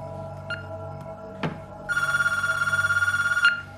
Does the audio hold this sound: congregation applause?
no